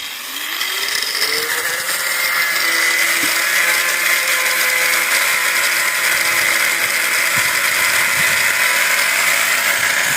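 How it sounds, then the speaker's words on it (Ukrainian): An angle grinder with a standard metal-cutting disc grinds steadily and loudly through an aerated concrete block for the whole stretch, a high whine rising at the start then holding level. "випилює звичайним кругом по металу"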